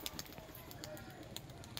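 A loft pigeon released close by, with brief soft wing flutters and faint cooing over a low outdoor background, quiet and distant-sounding.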